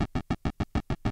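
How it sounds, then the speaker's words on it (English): Bit-crushed hi-hat drum sample ticks eight times in an even, quick pulse, crisp and gritty, standing alone. "So I added two different kinds of hi-hats."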